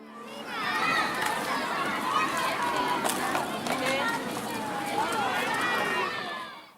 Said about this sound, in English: That was the sound of students at recess.